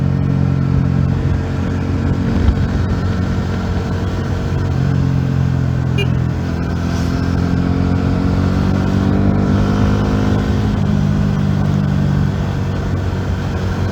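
A Porsche drives a narrow mountain road, its engine a loud, steady hum with gentle rises and dips in pitch as it climbs and eases through bends, heard from inside the car with no talking.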